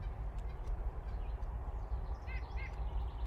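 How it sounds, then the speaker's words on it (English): A few faint bird calls, including brief chirps, over a steady low rumble of background noise. "have a listen to the birds too."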